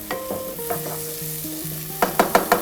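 Chicken curry frying in a pan is stirred, low sizzling with a few soft scrapes, then a run of sharp, close utensil scrapes and clatters near the end.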